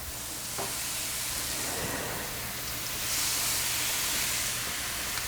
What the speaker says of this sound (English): As that's cooking, you can just get the steaks in.